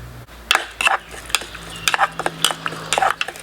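A spicy Thai salad dressing of pounded red chillies, fish sauce and lime being mixed with utensils, heard as a quick series of close clinks and scrapes of metal against a bowl in irregular bursts.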